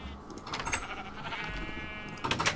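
Minecraft sheep bleat a few times in a quiet game scene, the wavering cries coming close and clear with no talk over them.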